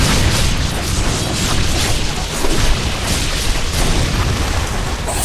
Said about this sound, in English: Fucking rocket launchers.